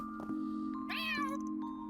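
Several cartoonish cat meows from a gathering of cats in the video game Trails Through Daybreak 2, rising and bending in pitch over steady game background music, with no talking.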